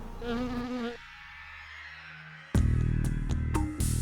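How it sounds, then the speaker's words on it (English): A swarm of aggressive killer bees in the Arizona desert makes a buzzing, whining hum that rises and falls, loud and close, broken by sharp louder bursts. "But there will be no escape from the killer bees tomorrow morning."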